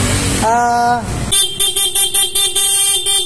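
PIA horn fitted to a Yamaha MT-15 motorcycle, first a single long tonal blast, then a rapid pulsing sequence of about nine quick, loud honks in steady rhythm, close by.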